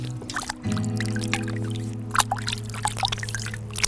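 Running water splashes irregularly as skin care product is washed off a face, close wet splashes and trickles over a steady tap flow.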